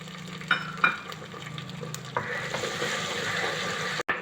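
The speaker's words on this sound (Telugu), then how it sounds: "బాగా వేగినాయి కదా ఎల్లిపాయలు" Garlic sizzles steadily in a pan for an old-style sour greens curry, with occasional clinks and scrapes of a spoon stirring it and a sharp knock near the end.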